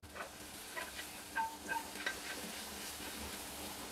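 Corned beef frying with onion and garlic in a pan, giving a soft, steady sizzle with a few light scraping stirs and clinks of a utensil, fairly quiet and without talk.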